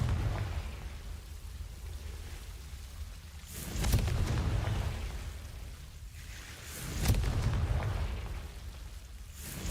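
Confringo fire blast spell from Hogwarts Legacy, two heavy explosive bursts a few seconds apart, each a sharp crack swelling into a booming rumble, over a continuous low roaring bed.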